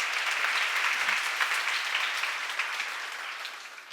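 A church congregation claps steadily throughout a sermon seminar on Romans 1, a dense, even wash of many hands that holds level and then eases off slightly toward the end, with no voices over it.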